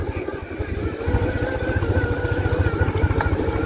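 A motorcycle engine runs close by with a steady, pulsing idle-like throb that swells slightly partway through, with faint background noise and no talk.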